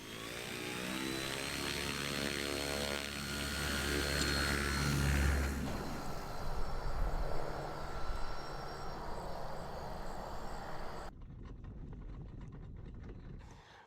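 Airplane engine in a flight game, taking off and flying: a loud, steady propeller drone with a constant pitch holds for about five seconds, then gives way to a rougher, rushing engine roar that continues to the end.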